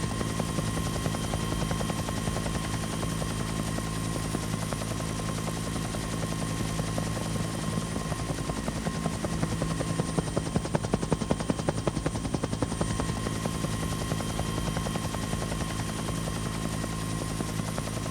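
Metropolitan Police helicopter over London, a continuous loud rotor thud and turbine whine droning steadily throughout with no talk.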